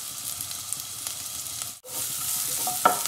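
Onions and curry leaves sautéing in hot oil in a pan for mushroom chukka, a steady close sizzle with scraping stirs, a brief dip midway, then a louder crackle near the end; no talking.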